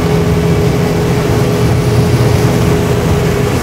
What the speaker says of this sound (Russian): Сейчас мы сбрасываем обороты до...